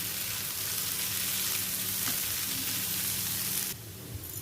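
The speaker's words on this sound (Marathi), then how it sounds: "व्यवस्थित अशी ढवळून घ्यायची" Karande (air potato) vegetable with grated coconut stirred in a hot frying pan for a fasting recipe, giving a steady close sizzle with faint scraping that drops sharply near the end.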